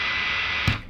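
Constant high-gain electric guitar amp hiss and hum with no noise gate, a steady bright buzzing wash, followed near the end by a brief low thump.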